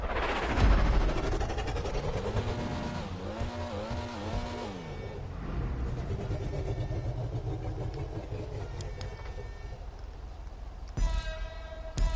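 A Pfister Comet SR sports car engine in GTA 5, revving and shifting with rising and falling pitch sweeps during a racing lap, steady and fairly close throughout.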